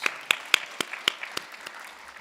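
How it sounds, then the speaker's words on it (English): A meeting audience claps for people on stage: a short run of distinct, fairly sparse handclaps that thins out and fades within about two seconds. "give another round of applause to all these lovely people on stage"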